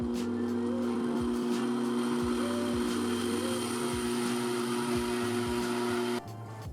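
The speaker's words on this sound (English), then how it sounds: "At first I start blending in the bigger blending bowl." A blender grinds cashews into cashew butter in a large blending bowl, a steady whirring motor drone running without pause before cutting off abruptly near the end.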